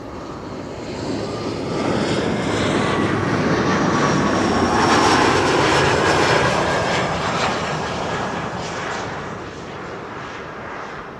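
A Boeing 737-700 narrow-body airliner at Amsterdam Schiphol passes with a loud, steady jet roar that swells, peaks midway with a faint whine, and slowly fades, with no voices.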